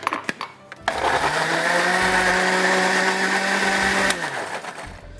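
A Inex Relax blender and grinder whirs through pineapple slices for halwa, starting after a few clicks and knocks, running loud and steady for about three seconds, then cutting off and spinning down.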